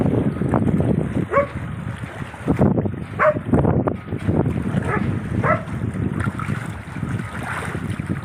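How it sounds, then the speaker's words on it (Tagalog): Steady roar of rough water with surging wave wash and gusty wind, loud and continuous, with occasional splashes against something nearby. "Lakas ng alon."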